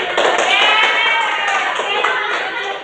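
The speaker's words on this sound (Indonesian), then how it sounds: "Oke, tepuk tangan." A classroom of students clapping together after a presentation, brisk and even for a few seconds, fairly close and loud.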